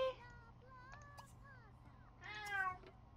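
A cat meows several times in The Sims 3, with melodic rising and falling calls near the start, in the middle and again louder near the end, over a low steady hum.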